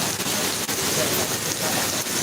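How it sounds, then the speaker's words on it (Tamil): Heavy, steady rain pours down in Singapore, a dense unbroken hiss that stays loud and close for the whole stretch, with no voices over it. "நம்ம வெளியே போகலான்னு வர்றப்ப இப்படி மழை பெய்யுது"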